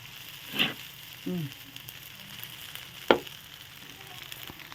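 Fried rice seasoned with oyster sauce, light soy sauce and seasoning powder sizzles faintly in a pan, with a few sharp scrapes and clanks from stirring that stand out above the low hiss.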